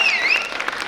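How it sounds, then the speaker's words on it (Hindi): Audience applause at a school annual function, a brief steady wash of clapping with a bright whistle-like tone riding over it, no speech. "एक बार और इनके लिए बहुत जोर से ताली बजाइए"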